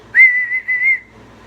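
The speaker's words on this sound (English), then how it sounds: "The teapots were whistling a merry tune" One shrill, steady whistle like a teapot's sounds for about a second, then cuts off into quiet.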